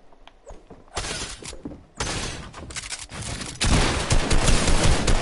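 Shotgun shots in the video game Fortnite: several loud, sharp blasts in quick succession, with heavy gunfire and impacts building to a dense burst at the end.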